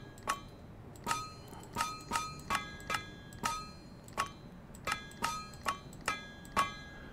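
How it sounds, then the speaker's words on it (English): Ringing metallic hammer strikes on a black steel ingot in the TerraFirmaCraft video game come about fifteen times in a steady rhythm, each a bright clanging hit with a short decay and no talk. "And then we have to hammer away at it to get the extra carbon out."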